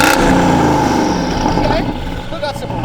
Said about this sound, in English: this is with the mufflers activated and the cutouts closed